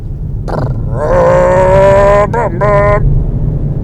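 A Volkswagen Golf 7's 2-litre diesel engine revs up with a rough, throaty tone, briefly dips as if changing gear, then climbs again before fading to a steady rumble.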